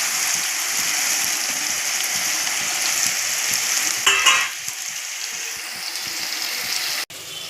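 Chicken is stirred into a pan of cooked tomato curry, a steady bright sizzle with a short burst of scraping and stirring midway, close and fairly loud without any talking.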